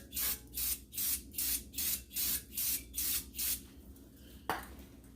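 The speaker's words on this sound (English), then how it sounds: "Now I'm going to take a little brake cleaner again. Just kind of go around the sides of this spindle here." Brake cleaner hisses from an aerosol can around the rear spindle of a 2015 Chrysler Pacifica in about nine short, even bursts, close and loud, then a brief louder blast after a pause.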